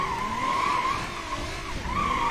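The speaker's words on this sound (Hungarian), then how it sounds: "De folyamatosan forog a kerék. És nyikorog." A wheel keeps spinning in BeamNG.drive, giving a steady loud tire squeal that wavers in pitch and swells again near the end, close and alone with no talk.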